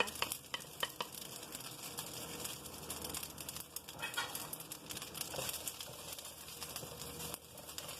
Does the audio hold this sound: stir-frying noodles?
yes